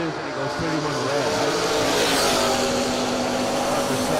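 A truck with freshly done transmission work roars down a drag strip, its engine loud and sustained at close range, building in pitch over a few seconds with no break.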